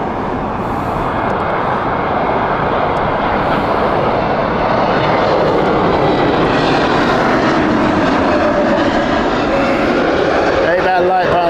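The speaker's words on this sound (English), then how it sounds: "inbound next is Turkish Airlines Airbus A321 Neo" Turkish Airlines Airbus A321neo arriving at Heathrow, a loud steady engine roar that builds slightly as the jet passes close by, with a voice talking underneath.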